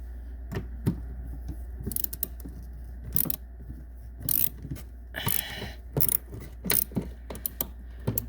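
Ratchet tightening taillight nuts onto short studs on a 2003 Chevrolet Cavalier, with quick bursts of clicking pawl strokes in irregular groups, close and crisp, with no talking.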